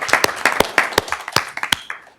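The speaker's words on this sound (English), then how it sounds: "So if we can give him a round of applause as well" A small audience claps for a school board meeting honoree, the sharp separate claps thinning out and fading to quiet within a couple of seconds.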